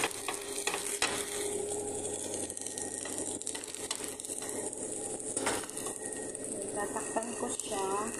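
An egg frying in a pan, with a steady close sizzle and occasional stirring scrapes of a utensil, while a person talks over it.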